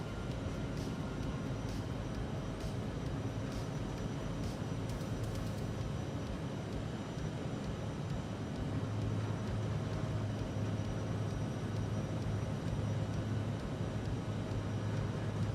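Airliner engines roaring steadily at takeoff thrust in a flight simulator game, a continuous broad drone with a low hum that grows slightly heavier partway through, faint and unbroken with no talk.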